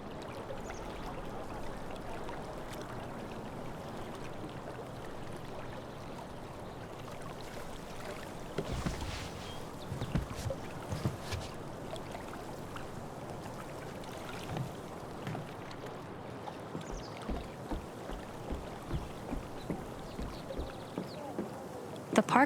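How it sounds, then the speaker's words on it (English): Kayak paddling through water in Life is Strange: True Colors, with steady flowing and trickling water across the scene and a few louder splashy paddle strokes in the middle and near the end. "If not for the paddling, kayaking would be super relaxing."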